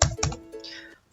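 A few quick keystrokes on a computer keyboard while entering a PMT formula in Excel, with two or three crisp clicks close by and a brief pause between them.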